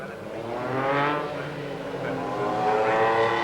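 An MG Metro 6R4 race car engine drones and revs in a harmonic whine, rising and falling as it rolls slowly nearby to its grid position at the Birmingham Superprix street circuit.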